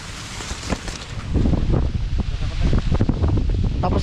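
Loud monsoon wind buffets the microphone in a cornfield in strong, rumbling gusts, swelling after the first second and staying forceful to the end.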